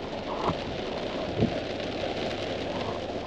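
Steady rain patters down on a muddy offroad road between Gembu and Banyo in Nigeria, a constant broadband hiss with a couple of brief louder thuds, no voices.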